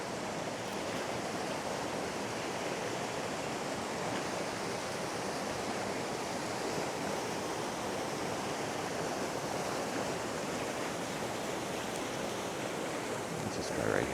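High river water rushing through a deep pool, a steady broadband whoosh of flowing water, constant and fairly close, with no pauses.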